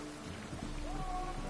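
Rain falls steadily in The Witcher 3, a soft, even wash of patter under faint tonal game music, moderately quiet and with no speech.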